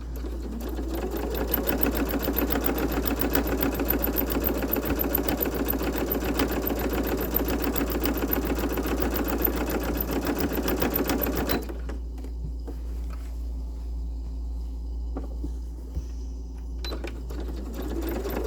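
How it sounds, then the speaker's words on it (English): A sewing machine stitching a grime guard, a loud, steady, fast mechanical whir with rapid needle clatter for about eleven seconds, then stopping to a low hum with faint handling clicks and no speech. "And now we're going to start sewing."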